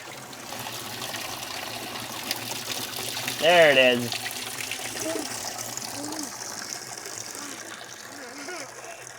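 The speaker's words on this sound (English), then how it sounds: "It's so cool to think that that water comes out of the hill." Clean spring water pouring from a new garden pump, a steady trickle and splash running throughout with people talking over it.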